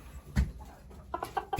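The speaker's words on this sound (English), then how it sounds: "Chickens!" A few short clucks from chickens, with a louder burst early on and softer clucking sounds toward the end, close by.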